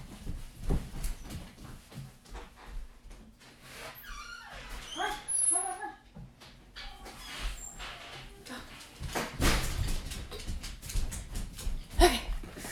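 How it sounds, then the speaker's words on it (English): A dog barks and whines in short, irregular yips off to one side, wanting to be let in, mixed with faint indoor shuffling and a bit of speech. "I gotta let the dog in. She's gonna keep barking."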